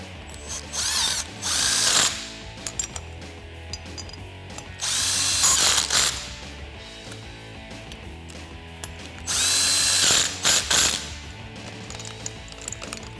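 A power impact gun runs nuts onto the studs of a 2-inch front leveling kit for a RAM 1500 strut assembly, firing in three loud rattling bursts separated by quieter pauses with light handling noise.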